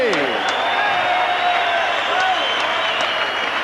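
A boxing crowd applauds two fighters after the Dave Hilton Jr vs Thobela bout, steady clapping and cheering under a male announcer's voice.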